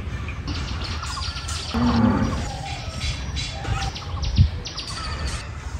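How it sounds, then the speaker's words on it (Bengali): Birds call around a small village in Meherpur district, Bangladesh, with scattered chirps and short tweets over a soft outdoor background, moderately distant and intermittent. "আশেপাশে হচ্ছে পাখির ডাক"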